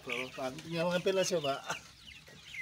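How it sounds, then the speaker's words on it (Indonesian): Chickens cluck and squabble close by, crowding in to feed on maggots mixed into fermented feed, with someone talking over the flock throughout. "langsung dikeroyok ayam ini"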